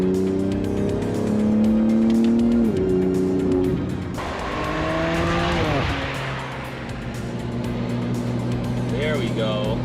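A Ford Mustang drives past on a highway during a long road trip, its engine note rising and sweeping in pitch as it goes by, with other traffic and people talking over it.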